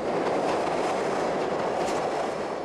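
A commuter train rumbles steadily along the rails, a loud, continuous, close-up roar with no voices.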